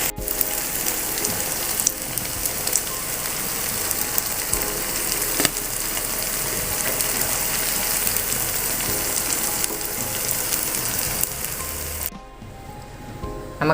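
Brinjal slices frying in a pan for a Tamil-style brinjal fry, a steady loud sizzle and crackle of hot oil that carries on unbroken, then drops away near the end.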